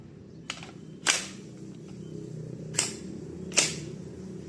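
A WE M4 gas blowback airsoft rifle fires four sharp, well-spaced cracks close up, each with a crisp metallic snap against a low background hum.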